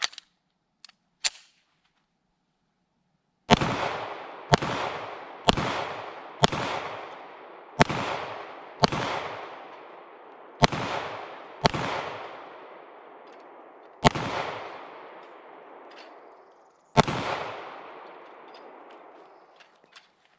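A CZ Shadow 2 pistol fires about a dozen separate shots at spinner targets outdoors, each sharp crack trailing into a long echo, spaced a second or more apart after a few faint clicks at the start.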